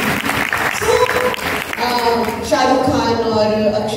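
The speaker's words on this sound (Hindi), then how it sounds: "तालियां हो जाएगा।" Audience applause breaks out at a Bollywood film interview event, a sustained, dense clatter of clapping from a crowd that carries steadily under and alongside ongoing talk.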